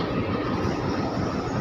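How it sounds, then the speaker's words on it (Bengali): Diesel train engine idling at Kamlapur railway station, a steady dense low rumble close by, continuous with no pauses. "এটা হচ্ছে গিয়ে ট্রেনের ইঞ্জিন।"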